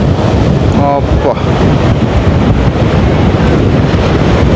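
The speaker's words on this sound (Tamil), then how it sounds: "சும்மா காத்தடிக்குது." Strong wind blows hard at the seashore at Keerimalai, roaring and buffeting the microphone in a loud, continuous rush over crashing surf, with no clear speech.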